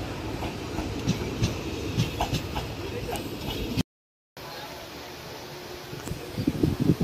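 Train running on the rails, heard from inside a crowded general compartment: a steady rumble with rhythmic clatter and voices talking, broken by a brief silent cut midway.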